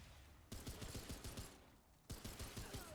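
Gunfire from a gun in the video game Remnant II, two quick bursts of rapid shots in a tight rhythmic string, punchy and close, over a noisy background.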